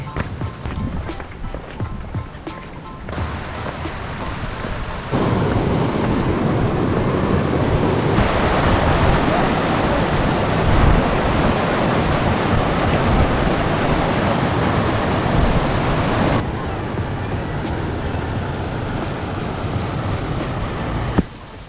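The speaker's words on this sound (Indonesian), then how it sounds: "Lewatin aliran, samping aliran sungai." A mountain river stream on the Torean hiking route at Rinjani rushes loudly beside the trail, a dense continuous roar that grows louder after a few seconds and eases slightly near the end.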